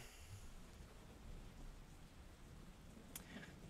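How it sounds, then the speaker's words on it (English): Steady rain falling outside in the Persona 4 Golden video game, a soft continuous hiss of drops at low level, heard alone without any voices. "You can hear it raining outside."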